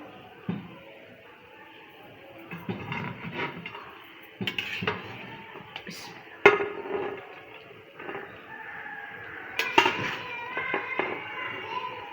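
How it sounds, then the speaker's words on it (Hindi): Matar pulao is served from a pot into a dish with scattered spoon scrapes and sharp metallic clinks at uneven intervals, while faint voices sound in the background. "हम इसको करते हैं डिश आउट"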